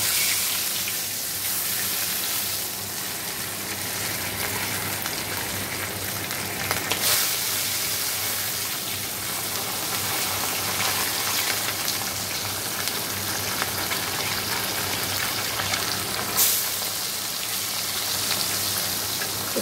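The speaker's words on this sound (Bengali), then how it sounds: "তেল গরম হয়ে গেছে, মাছগুলো দিয়ে দেবো।" Parshe fish sizzle steadily in hot oil, a dense, continuous crackling hiss that stays close and fairly loud for the whole stretch, with no talking.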